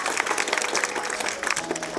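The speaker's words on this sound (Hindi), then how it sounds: "इनके लिए तालियां बजती रहें बेटा।" Applause from a crowd at a school block-level sports competition, honoring a student who placed third in long jump; dense, steady clapping throughout at moderate level.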